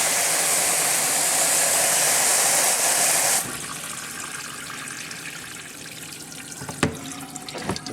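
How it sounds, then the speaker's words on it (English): Water drains steadily out of holes in the bottoms of pitchers in a greenhouse, a loud rushing stream that drops to a softer trickle partway through, with a few sharp knocks near the end. "The water is just draining right out of the bottom."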